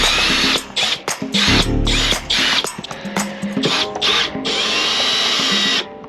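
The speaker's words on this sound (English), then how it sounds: "now I'm gonna go ahead and put the screws in" A power drill drives screws into RV framing while an electric fireplace is installed, giving several short whirring bursts with brief pauses and a longer final run, close and loud.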